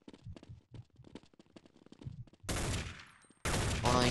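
Rapid automatic gunfire from an M4 rifle in the Counter-Strike: Condition Zero video game, loud dense bursts at close range after a stretch of softer footsteps and clatter, with a brief gap between two sustained volleys.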